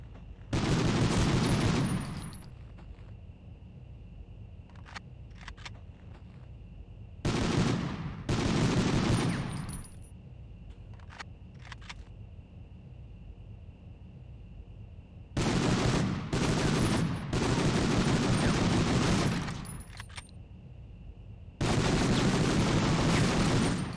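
Bursts of automatic gunfire from the Medal of Honor video game, four sustained volleys of a couple of seconds each, separated by quieter stretches with a few scattered shots.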